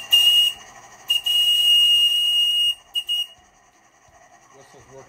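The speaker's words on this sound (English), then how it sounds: "Whistle's working great." A shrill whistle on a Stuart S50 steam plant blows in sharp bursts, one long sustained blast between shorter toots, then fades to quiet with a faint voice at the end.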